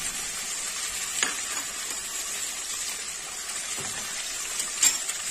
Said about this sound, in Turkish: Biraz salçayla kavuruyorum.